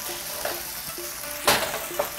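Food sizzles steadily in a hot pan, with a few sharp scrapes and clinks from stirring.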